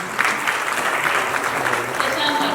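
An audience claps at a Marathi film trailer launch, dense sustained applause from a crowd heard up close for a couple of seconds.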